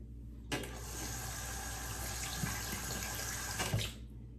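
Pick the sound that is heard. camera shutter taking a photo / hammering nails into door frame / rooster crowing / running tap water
running tap water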